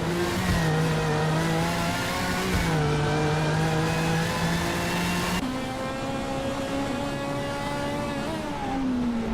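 Race cars in a racing video game roar continuously at high revs, engine pitch stepping up and down through gear shifts as several cars run close together, loud and steady throughout with no voices.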